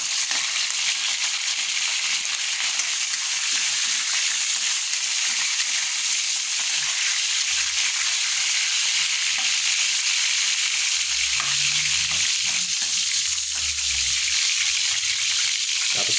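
Garlic frying in hot cooking oil for a sautéed dish, a steady dense sizzle and crackle running close and loud throughout with no talk over it.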